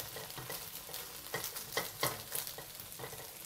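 Eggs frying in oil over medium heat while being broken up with a spatula for a Chinese stir-fried cabbage and glass noodle dish, a steady sizzle punctuated by repeated scraping and stirring strokes, close and alone.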